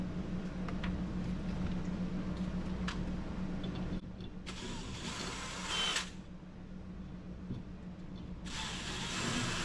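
Power drill boring new holes in a metal shelf bracket for a live edge floating shelf, heard as two loud, bright whirring bursts of about a second and a half each, separated by a quieter pause over a steady low hum.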